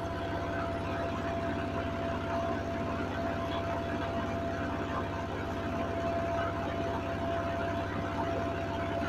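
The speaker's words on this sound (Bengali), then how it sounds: "একদম পাশেই চলছে জেনারেটরটা" A large generator runs close by with a steady, unbroken low mechanical drone and rumble that holds at an even level throughout, with no one speaking over it.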